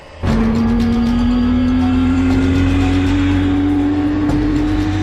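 A Victor bomber's jet engines spool up abruptly into a loud, steady roar with a rising whine, sustained and close, no voices.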